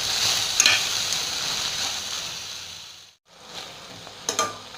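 Ingredients with cashews sauté in a pan with a bright, steady sizzle and a few clinks of stirring. The sound drops out for a moment, then the frying picks up again, with no talking.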